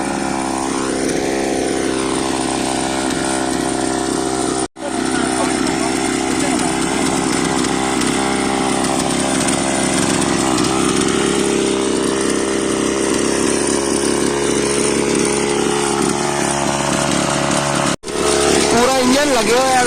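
A small engine, much like a generator, runs loudly and steadily throughout with a raspy buzz, cutting out briefly twice, while people talk over it.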